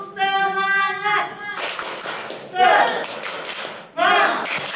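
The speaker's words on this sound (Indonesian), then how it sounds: "Sekali lagi tepuk semangat." A group of children at a church service does a rhythmic cheer clap, short bursts of claps and thumps alternating with voices chanting and singing.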